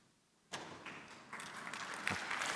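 An audience applauding a motivational football speech, with clapping that starts abruptly and carries on as a dense, fairly distant patter to the end.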